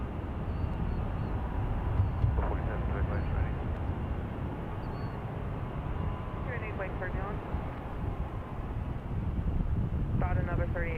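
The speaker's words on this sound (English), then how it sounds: "British Airways is off to London Heathrow" A British Airways jet bound for London Heathrow rolls out at San Francisco International Airport, a steady low engine rumble mixed with wind buffeting, while brief radio voices cut in and out over it.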